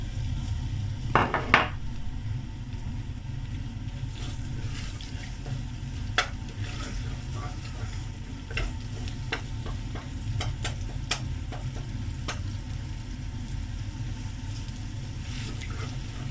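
Steady sizzling of ginger garlic paste frying in hot oil over high flame, with a few clinks and scrapes of a utensil against the pan, no voices.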